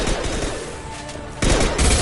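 Dense gunfire from a Mass Effect 2 firefight rattles on steadily, then surges louder in heavy bursts near the end, with no voices over it.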